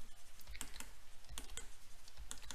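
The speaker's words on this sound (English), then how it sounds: "Apologies that you might hear a little bit of clicking on the screen." A stylus taps and clicks on a drawing screen during digital painting in Sketchbook Pro, producing faint, close, irregular light clicks in small clusters against a quiet background.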